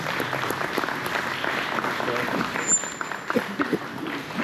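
Audience at a BeechBash gathering gives a warm round of applause for speaker Mark Baker, a fairly soft, even wash of clapping at moderate distance that holds steady throughout with a few louder claps near the end.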